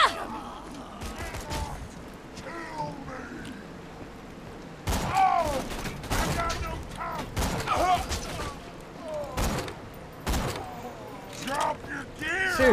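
Gunfire in the Borderlands 2 video game while fighting shielded badass enemies, with scattered shots and sharp bursts of several seconds against a busy game soundscape, someone talking over much of it.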